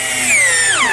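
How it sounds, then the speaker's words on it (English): A power drill bores pilot holes for screws into oak on a bathroom vanity, a loud steady whine that climbs in pitch and then dips, heard alone at close range. "I'm using screws, being sure to pre-drill some holes."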